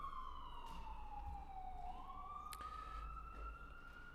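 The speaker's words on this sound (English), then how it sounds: "Gonna wait for that siren." A siren wails steadily, its pitch sliding down and then back up, sounding moderately far off over a low background hum.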